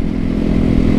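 A supermoto motorcycle engine running loud and close, giving a brief, steady, throbbing drone with a dense low rumble and no talking.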